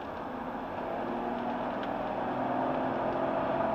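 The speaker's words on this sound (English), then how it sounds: "Powers away nicely up the hill." An automatic BMW 528i SE car accelerates up a hill, its engine a steady, muffled hum from inside the cabin that slowly grows a little louder and fuller as the car gathers speed, with no one talking.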